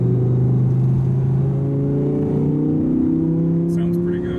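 A 2017 Audi R8 V10 engine gives a deep, steady drone with layered harmonic tones, revving gently and holding, loud and close, with a faint voice briefly near the end.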